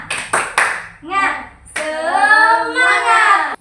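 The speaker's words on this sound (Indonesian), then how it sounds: "kita mulai tepuk semangat" Classroom group doing the tepuk semangat clapping chant: three sharp, close claps in quick succession, then voices chanting a drawn-out word together.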